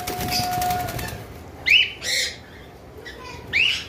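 Birds at a bird farm, including an albino breeding pair, chirp in a few short, sharp calls amid wing flutters and background noise, fairly close.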